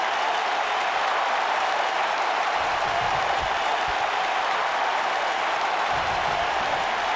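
Arena crowd applause in the WWE 2K19 wrestling video game during an Ember Moon versus Asuka match, a loud, continuous wash of clapping and cheering that holds steady throughout.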